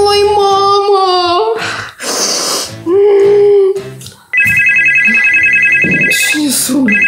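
A telephone rings in a school classroom with a steady, loud electronic trill lasting several seconds, set among speech and other classroom sounds before and around it.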